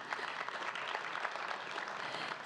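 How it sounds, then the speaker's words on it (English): An audience at a Founders Day ceremony claps in a steady, even patter of applause, fairly soft and distant, with no voices over it. "another round of applause."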